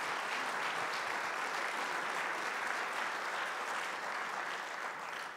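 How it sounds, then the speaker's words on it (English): Steady, full applause fills a university winter convocation hall, a continuous wash of many hands clapping at moderate distance, holding evenly for about five seconds. "Round of applause"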